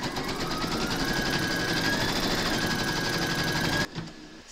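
A home embroidery machine stitches the placement outline for a scarecrow's hair and batting on in-the-hoop appliqué, a steady rapid whirring chatter of the needle running continuously before it stops near the end.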